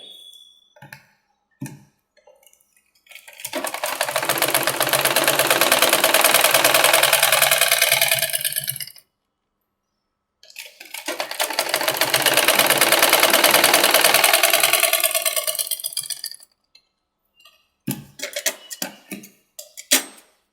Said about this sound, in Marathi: हिला दाब शिलाई देऊन घेऊया आधी.